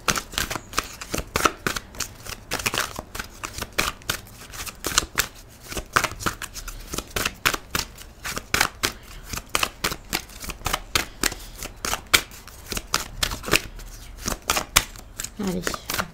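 Oracle cards for a tarot reading are shuffled continuously, a dense run of quick papery riffles and flicks at close range, with no speech over them.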